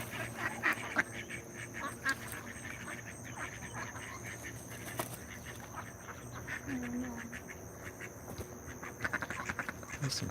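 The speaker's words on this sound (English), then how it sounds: "There's some serious duck fighting." Ducks quack and squabble in a noisy cluster, with repeated close honks and scuffling bursts over a busy outdoor background, and people talk faintly now and then.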